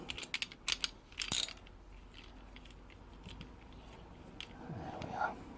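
Metal tool being run up and down a thread to clear it during a Honda rebuild, giving quiet close ratcheting and clicking mechanism sounds in short bursts, then a faint scraping rumble.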